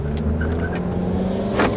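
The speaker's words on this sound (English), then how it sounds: "Front wheels will still chirp a little bit." A 2012 Dodge Avenger SXT with a 6-speed automatic pulls away under acceleration, its engine drone steady and close, with a brief scrape of front-wheel chirp near the end.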